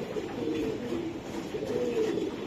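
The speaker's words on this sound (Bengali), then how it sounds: "একটা মাদি, মাদি কবুতর এটা" A female racing pigeon coos softly in a steady, rolling murmur, close by, with low repeated throaty calls over a faint background.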